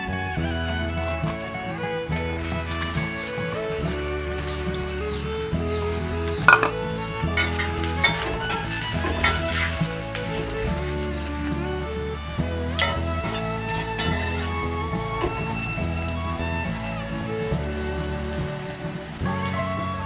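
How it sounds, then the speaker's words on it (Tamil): Bitter gourd fries in a generous amount of oil in a pan for a crisp spice powder, giving a steady, dense crackling sizzle throughout, with occasional sharper pops and clicks of stirring. "அதே வானலில் பாவக்காயை வறுத்து எடுத்துக்கலாம்"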